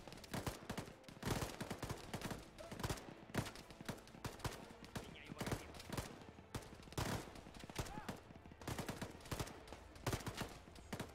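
Bursts of rifle and machine-gun fire during a convoy ambush in Arma 3, set in Afghanistan, with sharp repeated cracks at irregular intervals, some loud and near, others more distant.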